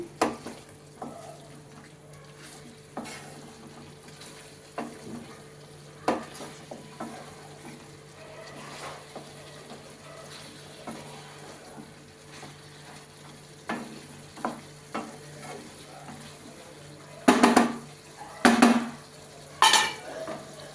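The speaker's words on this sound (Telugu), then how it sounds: "బాగా మిక్స్ చేసుకోవాలి" Spinach chicken curry is stirred in a frying pan over a low, steady sizzle. Scattered spatula scrapes and taps grow louder and more clustered toward the end.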